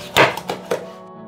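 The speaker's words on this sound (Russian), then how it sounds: "После этого нарезаем кусочками." Knife chopping a cleaned Baltic cod into pieces on a board, three sharp close cuts in quick succession, alone without talk.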